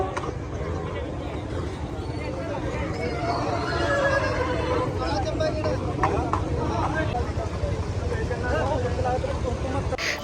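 At a crowded horse show and fair in Punjab, a horse neighs and whinnies amid a steady murmur of people talking and general outdoor crowd noise.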